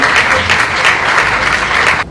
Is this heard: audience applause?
yes